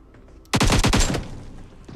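Video-game gunfire sprayed into windows, heard as one loud, rapid automatic burst of roughly eight shots lasting under a second. Quiet background comes before and after, and no one speaks.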